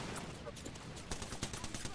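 Rapid bursts of gunfire in the shooter game Apex Legends, a dense stuttering volley of shots at moderate level, crackling over faint background sounds for about two seconds.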